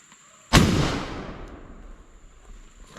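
A single loud rifle shot fired over a chronograph during a velocity test of black powder loads with a 209 primer. It is a sharp blast with a long rolling decay and no talking.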